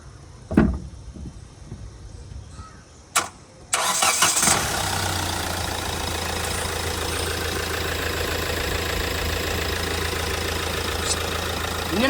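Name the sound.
Hyundai Creta 1.6 diesel engine starting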